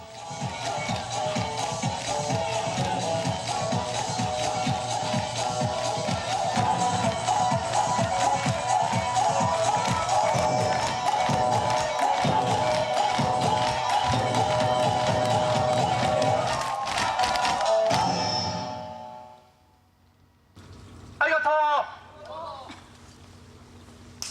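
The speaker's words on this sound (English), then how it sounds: "The earth quakes to the stamps of the 60 dancers." Sixty dancers stamp their feet in unison at a shrine, a dense, loud, thudding rhythm of massed footfalls with crowd noise that drives on for about eighteen seconds, then cuts out abruptly, leaving near-silence and a brief burst of other sound.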